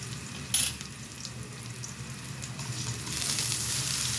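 Salmon goes into a pan with a little oil and begins to fry: a quick clatter as it lands, then a soft sizzle that swells louder and holds steady toward the end.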